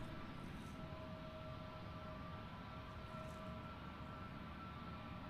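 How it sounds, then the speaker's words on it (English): A distant airplane at London Luton Airport drones steadily on a foggy, wet day, a low continuous rumble with a faint tonal whine and no talk. "Everyone's favourite plane."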